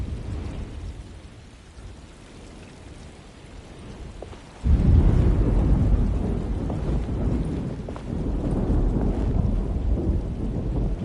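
A thunderstorm in the Alone in the Dark video game, with steady rain that swells suddenly into a loud, heavy rumble of thunder and downpour, then stays dense and continuous.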